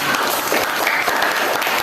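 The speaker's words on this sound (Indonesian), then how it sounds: "Tepuk tangan untuk kita semua." A classroom of students bursts into brief, brisk hand-clapping, a close, dense patter of claps that fills the short stretch.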